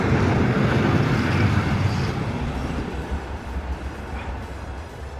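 A train rumbling past close by near San Siro stadium in Milan, Italy, a loud steady low roar that slowly eases over a few seconds, with no talking.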